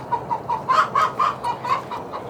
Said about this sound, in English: we have a hen that's a little more pissed off than normal